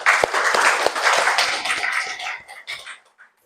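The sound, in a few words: class applause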